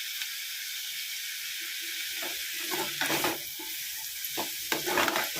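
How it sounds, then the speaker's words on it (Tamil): Ingredients for fenugreek kuzhambu sauté in a pan, first a quiet steady sizzle, then repeated louder scraping stirs and hissing bursts toward the end, with no speech. "இடையில நல்லா வதக்கி விடுங்க."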